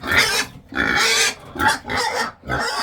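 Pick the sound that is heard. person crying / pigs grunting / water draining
pigs grunting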